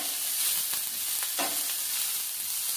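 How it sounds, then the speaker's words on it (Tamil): Onion sautéing in a hot pan gives a close, steady crackle and sizzle, broken by a few light scrapes where it gets stirred. "இப்போ ஆனியன் லேசாக வதங்கிடுச்சு"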